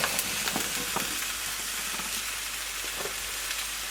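Sliced mushrooms and spices crackle and sizzle steadily in a frying pan, with a few soft scrapes and clicks of stirring breaking through the constant hiss, close and moderately loud with no talking.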